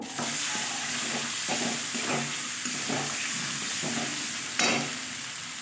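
A spice paste of turmeric and chilli powder frying with a small tomato in a pan, a steady close sizzle broken by repeated scraping stirs and a sharp clatter near the end, no talk.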